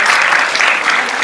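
Conference audience applause for a student team presentation at a young leaders event, a brief burst of loud, close, dense clapping.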